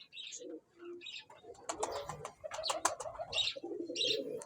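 Pigeons coo repeatedly at close range, soft throaty calls recurring through the clip alongside scattered chirps and a brief flutter, with a faint voice in the background.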